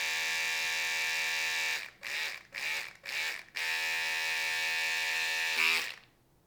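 An electric toothbrush, a Sonicare or Oral-B, buzzes steadily up close, then stutters through a few quick pauses at the two-minute mark before humming on and shutting off, with no talking.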